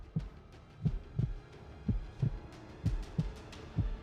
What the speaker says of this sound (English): a heartbeat